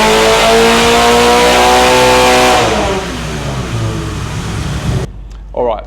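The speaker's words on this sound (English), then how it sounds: "I'm happy with the dyno runs" A supercharged Subaru BRZ/Toyota 86 screams on a dyno, engine revving loud and high for several seconds before easing off and falling quiet, followed by a brief voice.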